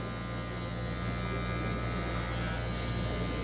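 Electric hair clippers with a zero blade trimming a fade haircut in a barbershop, giving off a steady, close, continuous buzz with no pauses.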